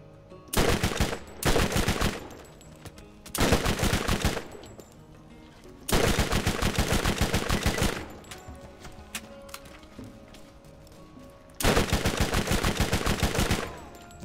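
Borderlands gunfire in four long automatic bursts, each lasting one to two seconds with short gaps between, loud and close against quiet game ambience.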